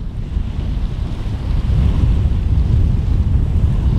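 Waves lap steadily at the shore of Pangong Lake in Ladakh, a continuous rushing wash mixed with heavy wind buffeting the microphone, loud and unbroken with no voices.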